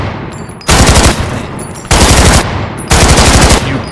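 Automatic gunfire in a fan-made remake of the Escape from Tarkov shooter game: three sharp, loud bursts of rapid shots with brief pauses between them.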